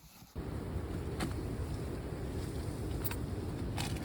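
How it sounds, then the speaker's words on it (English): Wind roars steadily against the microphone on a morning hike at Unicoi Gap on the Appalachian Trail, after a brief quiet start, with a few sharp gusty bursts buffeting it. "Sort of a windy morning."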